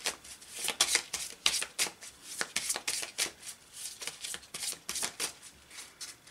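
Oracle cards being shuffled by hand, a quick run of crisp riffling flutters in repeated bursts, close and clear, with no voices.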